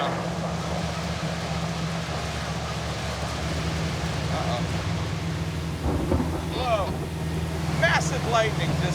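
Heavy rain drums steadily on a car driving a flooded highway during a thunderstorm, with a constant rushing wash, low road rumble and wiper-like sweeps, while people talk over it.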